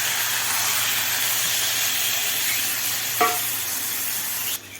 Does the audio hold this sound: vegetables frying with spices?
yes